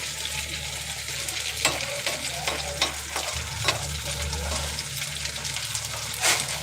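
Coconut pitha frying in oil in a kadai, four at a time, make a loud, steady sizzle broken by repeated scraping and stirring strokes, with no talking.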